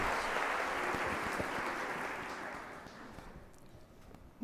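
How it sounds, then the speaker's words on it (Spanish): Conference audience applauding a speaker's welcome, steady clapping from a roomful of people that gradually thins and fades out over a few seconds. "Entonces, dimos la bienvenida al doctor José Elber Castañeda con un aplauso, por favor."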